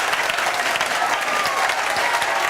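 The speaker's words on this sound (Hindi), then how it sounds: "जोरदार ताली बजाओ" Loud, dense audience applause fills a coaching-centre ceremony hall as students are handed watches on stage, steady throughout with no voices over it.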